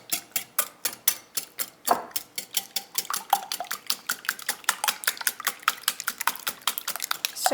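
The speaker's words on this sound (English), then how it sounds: "we are going to whisk these briskly for just a couple minutes before we add in the milk" Eggs whisked briskly in a bowl before milk is added for baked stuffed French toast, a rapid, steady run of sharp close clicking strokes that speeds up slightly, with no voices.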